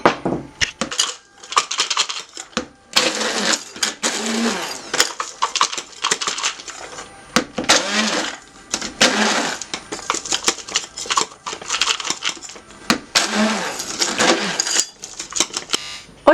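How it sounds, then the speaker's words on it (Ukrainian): A blender pulses in repeated short bursts, grinding and crushing hard nuts with a gritty, rattling roar between brief pauses. "Тепер я ось так пересипаю прибиваю легесечко-легесечко блендером"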